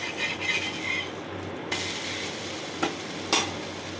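Vegetable dosa sizzling on a pan just after flipping, with a constant close fry hiss, a spatula scrape near the middle and a couple of sharp clinks later, no voices.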